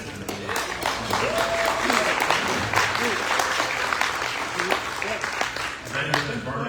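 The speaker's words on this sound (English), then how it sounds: "Maybe a round of applause for what they've been doing." An audience at an anniversary lunch event applauds steadily, dense clapping filling the room for several seconds with a few voices mixed in.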